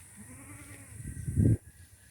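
A goat gives a single short, close bleat near the end, with quiet rural background by a river and no talk.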